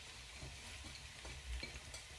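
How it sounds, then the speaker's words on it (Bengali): Dried fish (shutki) frying in oil with a piece of garlic and half an onion, a quiet continuous sizzle with faint stirring scrapes. "হুটকিরে তেল দিলাইলাম আমি রসুন এক টুকরা দিছি আর আধা খান পেঁয়াজ"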